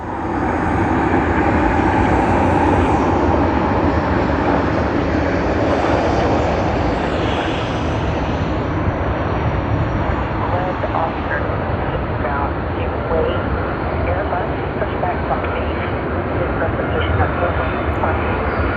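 A Japan Airlines airliner in oneworld livery departing Sydney Airport, its engines a loud sustained roar that swells early and then slowly fades, with a voice speaking over it.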